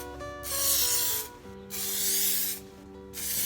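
Three long hissing bursts of aerosol spray lay a thin finish coat onto an elm burr bowl, each lasting about a second with short pauses between, close and steady over a faint background tone.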